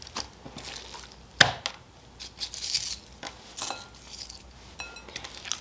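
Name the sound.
knife cutting through whole raw chicken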